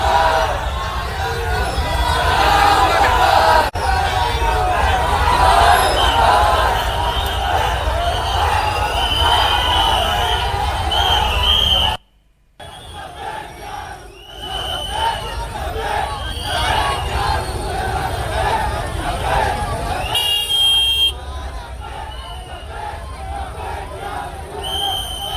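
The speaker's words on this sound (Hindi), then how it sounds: "इस दौरान जमकर धार्मिक नारेबाजी हुई" A huge crowd of thousands chants religious slogans outside a city police station in Vadodara, a loud, continuous roar of massed voices that drops away briefly midway before swelling again.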